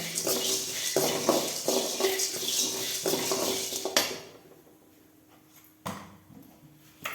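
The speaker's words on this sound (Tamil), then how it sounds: "கடலப்பருப்பு கொத்தமல்லி மிளகாய் இந்த மூணையும் போட்டு நல்லா வறுக்கிறோம்" Chana dal, coriander seeds and dried chilies dry-roasted in a pan without oil, with rattling scrapes and clinks of a spoon against the metal in bursts, then quieter stirring with a couple of sharp knocks.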